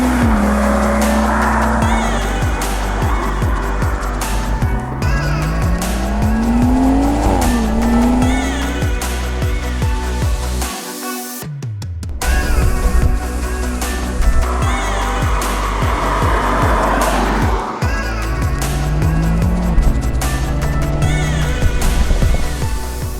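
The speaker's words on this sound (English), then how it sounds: "this car is packing a 3-litre 6-cylinder engine which produces about 340 brake horsepower" A 2018 BMW M140i's 3-litre six-cylinder engine of about 340 horsepower roars and revs repeatedly, pitch climbing and dropping through gear changes, with tire squeal and brief quiet gaps; loud and close throughout.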